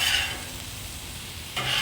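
Onions mixed and shoveled together with vegetables on a Camp Chef griddle for fajitas, a close, steady sizzle with soft scraping of a spatula, brief and without talk.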